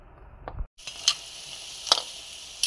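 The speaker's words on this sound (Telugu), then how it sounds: "ఇంకొక 2 నిమిషాలు కొంచెం ఈ నూనెలో ఇలా ఆయిల్ ఇట్లా బురుజులు వస్తే ఇంకా ఉడుకుతుందని అర్థం అండి." Onion bonda fries in bubbling oil with a steady, close hiss, punctuated by a few sharp crackles and spatters; after a brief dropout the sizzling resumes.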